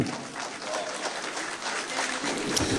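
An audience at a mushaira in Kamptee, Nagpur breaks into sustained applause to welcome a poet, a dense wash of clapping that holds steady throughout with a faint murmur of voices underneath.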